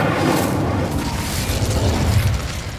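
In Hogwarts Legacy, the Incendio fire spell roars out as a thick, continuous whooshing blast of flame, loud and close, with a low rumble that holds steady for a few seconds.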